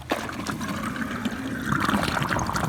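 Hayward Navigator pool cleaner being submerged in pool water, giving a steady close bubbling and gurgling trickle as air escapes, rising slightly toward the end, with no talk.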